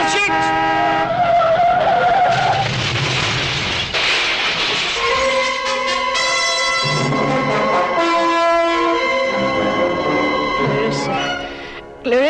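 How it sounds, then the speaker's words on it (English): Car crash sound effect in an old-time radio mystery drama: loud screeching tires sliding and wailing for several seconds, then a harsh metallic smash and clatter, with a voice shouting partway through. "was that the sound of a car crash?"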